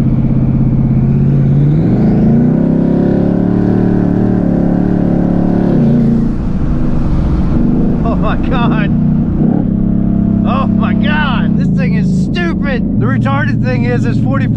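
A 2019 Mustang GT with twin turbos accelerates hard on street tires, its loud engine drone heard from inside the car, rising and shifting pitch, with talk over it.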